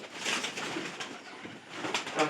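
Pigeons feeding outside make soft cooing calls, faint and fairly close, repeating over light background noise with no talk.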